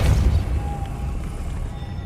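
A Depulso spell goes off in the Hogwarts Legacy game: a heavy low thump at the start, then a fading rumble with a faint magical whine over it, with no talking.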